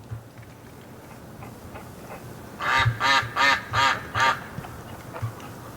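Ducks out in the snow during a winter snowstorm let out a quick run of five loud, nasal quacks midway, set against a quiet, faintly hissing outdoor background.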